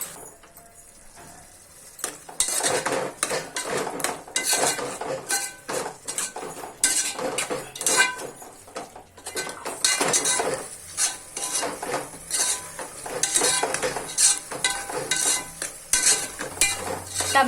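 Tomatoes tipped onto fried mushrooms in a pan for mushroom biryani and stirred: a busy, close run of spoon-on-metal clatters and scrapes that goes on without a break after a quieter start, with no voices.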